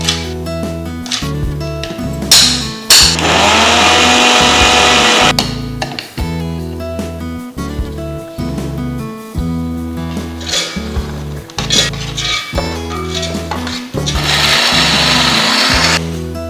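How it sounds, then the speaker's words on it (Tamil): A mixer grinder jar pulverising dried multigrain flour of pearl millet, ragi and wheat runs in loud, steady whirring bursts, stopping and restarting several times. "எல்லாத்தையும் ஒன்றா சேர்த்துட்டு மிக்ஸி ஜாரில் போட்டு அரைச்சி"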